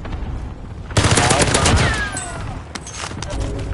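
Gunfire in the video game Warzone on Rebirth Island: a sudden burst of rapid automatic shots that fades into scattered shots, loud and close, with players talking over it.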